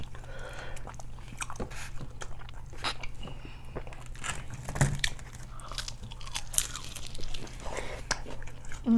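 Someone bites and chews spicy Buffalo Wild Wings up close, with repeated sharp crunches and wet smacking over a low background hum; no talking.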